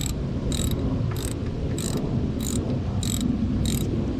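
A hand ratchet clicks in seven evenly spaced bursts, roughly every half second, while tightening a brake caliper slider pin bolt on a 2016 fourth-generation vehicle's rear brakes, over a steady low background hum.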